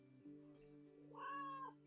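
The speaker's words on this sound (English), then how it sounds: "my cat, who's very talkative right now" A pet cat gives a single drawn-out meow close by, rising at the end, with a quiet room around it and no talking.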